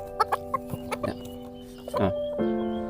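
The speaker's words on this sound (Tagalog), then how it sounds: "Tignan nyo yung diferensya sa dalawang bantam chicken." Bantam chickens cluck nearby in short, scattered calls that build into a longer, drawn-out clucking phrase toward the end, over a steady background hum.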